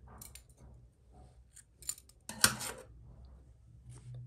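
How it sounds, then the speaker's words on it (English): Scissors snip through crochet yarn in one crisp, close cut, preceded by faint rustling and small handling clicks in a quiet room. "you're going to cut your yarn"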